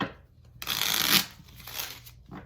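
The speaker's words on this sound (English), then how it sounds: "One more shuffle for you, Cancer." A deck of tarot cards being shuffled close by, a steady riffling rush lasting about half a second, then softer card handling and a final brief flutter.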